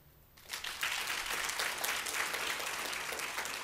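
An audience at a city employee recognition ceremony breaks into applause for the mayor, starting sharply after a quiet moment and holding as steady, dense clapping.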